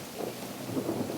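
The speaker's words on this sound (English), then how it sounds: "it's starting to rain." Steady rain begins falling outdoors in a backyard pool area, a soft continuous hiss and patter with slight swells, fairly quiet and uninterrupted by talk.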